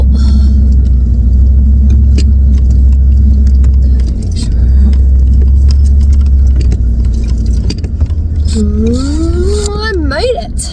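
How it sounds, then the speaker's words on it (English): A vehicle towing a trailer loaded with scrap metal runs over bumps and around corners, giving a loud low engine rumble with scattered metallic clatters and rattles, then a whining rising and falling tone near the end. "trailer loaded down with metal, and I'm just kind of running it through some bumps and corners to make sure nothing is going to fall out"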